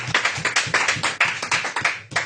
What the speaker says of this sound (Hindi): जोरदार तालियां, खूबसूरत तालियां अपने आप को तैयार करें